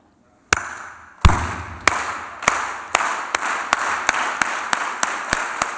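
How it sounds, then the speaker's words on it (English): Group clapping at a class ceremony, starting as single sharp claps spaced about half a second apart and steadily speeding up into a quickening unison rhythm, close and loud. "should we start clap?"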